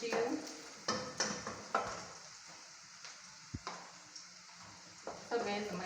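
Chopped garlic and onions fry in a pan for a beef stew, a soft, low sizzle broken by repeated light stirring clicks and scrapes at irregular intervals.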